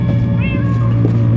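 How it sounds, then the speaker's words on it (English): A cat or ocelot in a video game gives a short, high, rising meow partway through, heard over a steady low background hum. "That almost sounds like... cat. Ocelot. Cats? Or ocelot. Meow."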